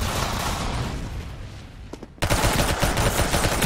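Gunfire in the Roblox shooter Arsenal: a loud burst of rapid shots after a quieter stretch of background game noise, the volley cutting in abruptly and continuing to the end.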